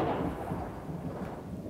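Deep, loud rumble of a thunderclap during a thunderstorm directly overhead above a pond, a continuous low roar filling the whole moment with no voices.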